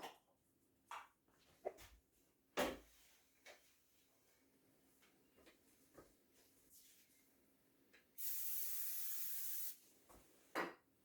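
A cooking-spray can hisses in one sustained burst of about two seconds onto a baking pan before cookies are baked, set among scattered kitchen clatter and soft knocks in a quiet room.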